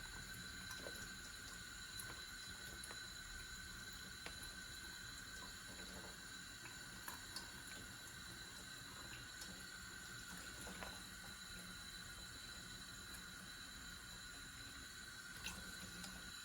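Water runs steadily from a kitchen tap to cool and rinse freshly boiled somen noodles, a constant faint wash with small splashes and clinks throughout.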